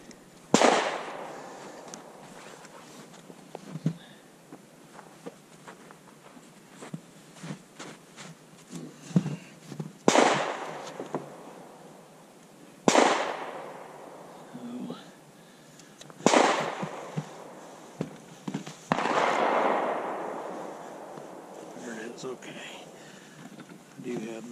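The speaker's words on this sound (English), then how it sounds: "We're gonna shoot a couple more of those through" A 7mm-08 rifle firing 150 gr Swift Scirocco II rounds into ballistic gel outdoors, four sharp loud reports spaced several seconds apart, each with a long echoing decay, over wind noise.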